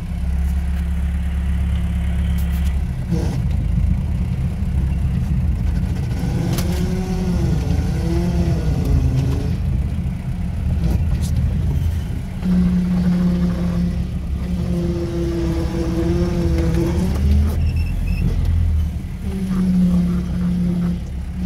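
A modified UAZ off-road vehicle turns around on a frozen track, and its engine rises and falls through several revs at low gear. Someone talks over the engine for most of the clip.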